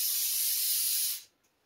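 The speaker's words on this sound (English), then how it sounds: "Spray it down." Brake cleaner sprayed from an aerosol can onto a Honda K24A2 cylinder head, a steady bright hiss lasting just over a second before cutting off cleanly into near silence.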